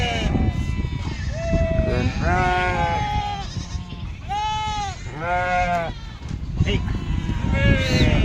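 Several sheep bleat repeatedly at a livestock market, some close and loud, others overlapping, against a rough background of shuffling and noise.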